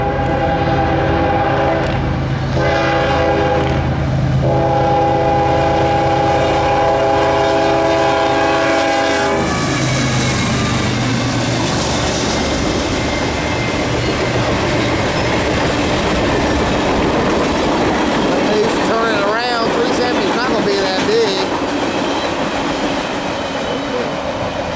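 Norfolk Southern NS 370 manifest freight, led by an ES44DC with a Dash 9 in tow, passing at Easley, South Carolina. A loud, sustained horn chord sounds first, then the rumble and clatter of rail cars rolling steadily past close by.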